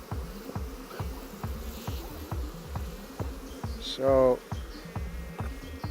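Honeybees buzz steadily around a smoked beehive, a dense close drone with repeated wingbeat pulses, and one louder bee passes close by partway through; a voice speaks briefly.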